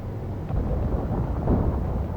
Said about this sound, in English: Weather, electric storm.